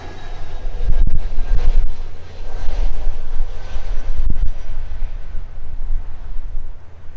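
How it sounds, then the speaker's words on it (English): A Jetstar Airbus A321neo at Gold Coast Airport produces a steady, loud, broadband roar that holds throughout with slight swells, a sustained engine rumble with no talk over it. "We've got our 321 Neo, the Jetstar."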